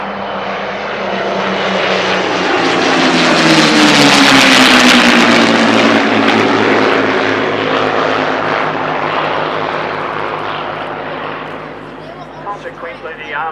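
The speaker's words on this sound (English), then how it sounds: "I'll let you listen to these aircraft as they come past." Vintage propeller aircraft at a RAAF Museum flying display pass overhead, the engine roar swelling loud around the midpoint and slowly fading as they move away, with outdoor crowd noise beneath.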